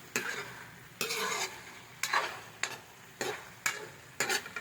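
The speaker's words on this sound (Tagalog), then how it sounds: "Ayan, atin munang halu-haluin." A utensil stirs sautéed chicken and chicken liver with aromatics in a sizzling pan for a chayote dish, in regular scraping strokes about once a second over a steady frying hiss.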